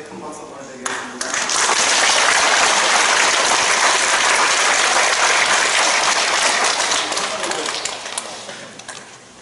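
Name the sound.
church congregation applauding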